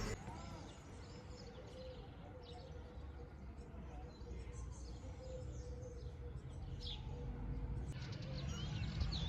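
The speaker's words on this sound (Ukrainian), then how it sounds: "Звук, як пташки співають." Faint birds chirp and sing in the distance over a steady low background hum.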